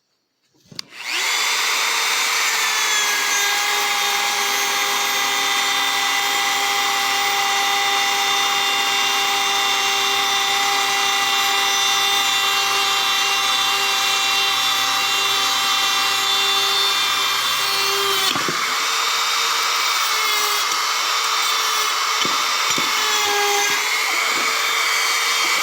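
A handheld rotary tool fitted with a larger burr carves a wooden gnome, a high, steady whine that runs loud and constant, then dips in pitch and stutters briefly as the burr bites into the wood near the end.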